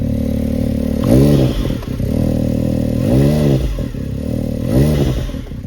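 A turbocharged Can-Am Maverick X3 side-by-side with a 3-inch RPM exhaust and the dump valve closed revs up three times, each rise cresting and settling back to a steady rumbling idle, loud and close.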